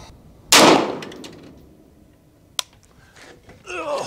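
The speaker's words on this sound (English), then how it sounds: "Oh, muzzle blast" A single sharp, loud rifle shot from an IWI Carmel at the range, a sudden broadband blast that decays over about a second, followed later by a faint click and soft handling noise.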